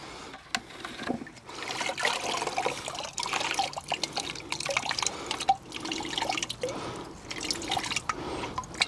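Wet clay slurry drains through a mesh strainer in irregular drips, trickles and small splashes, quiet and close, with uneven bursts of liquid throughout.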